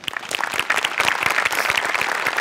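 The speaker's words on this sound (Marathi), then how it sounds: "दोघांसाठी टाळ्या." Studio audience at a Marathi comedy show applauding two performers, a dense burst of many hands clapping, steady and fairly loud throughout.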